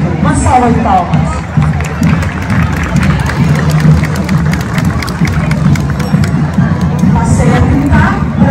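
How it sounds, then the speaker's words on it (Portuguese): Spectators at an Independence Day school parade in a rural town applaud and cheer, the loud clapping mixed with crowd babble and excited voices close by. "Uma salva de palmas."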